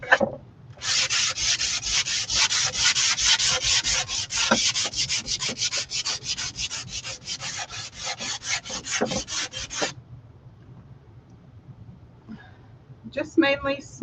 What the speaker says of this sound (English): I'm going to give the sides a light sanding